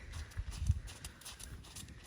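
A mare trots slowly around an arena, her hooves giving a steady, fairly soft clip-clop rhythm close by, with no talking during the stretch.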